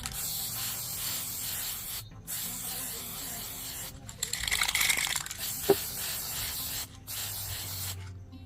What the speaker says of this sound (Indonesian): nanti bisa kita semprot dengan menggunakan clear coat atau ini ya, clear glossy.